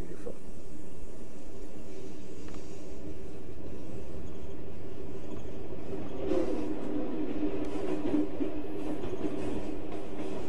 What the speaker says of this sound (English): Oh, there's a TGV train approaching.